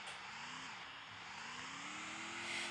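A car in the video game Free Fire drives with a faint, steady engine hum whose pitch climbs and shifts as it speeds up, heard alone without talk.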